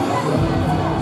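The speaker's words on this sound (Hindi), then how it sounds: "जोरदार तालियां" Loud, continuous crowd noise of clapping and cheering at a government senior secondary school annual function in Sirkund, a dense wash of applause with shouting children throughout.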